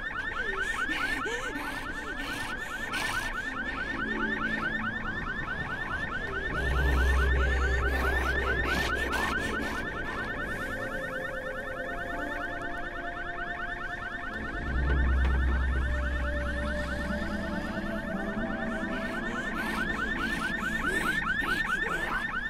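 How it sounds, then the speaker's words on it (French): A steady electronic alarm rings continuously in the zombie survival game Dying Light, a fast repeating tone that never lets up, with low rumbling thuds swelling underneath twice. "Mais c'est pas vrai, c'est où cette alarme?"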